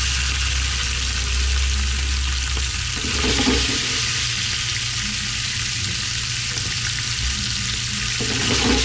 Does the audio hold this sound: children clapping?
no